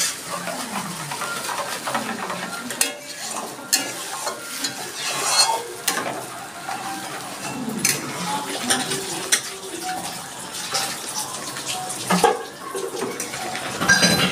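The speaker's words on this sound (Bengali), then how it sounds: "ডিমটা দেওয়ার সময় একটু এভাবে নাড়া দিতে হবে, যাতে ডিমটা দলা হয়ে না আসে।" A sour Bengali egg curry bubbles and sizzles in a pot as beaten egg is stirred in, with steady scraping and clinking of a spoon against the pan and occasional louder clanks, close and continuous, no talking.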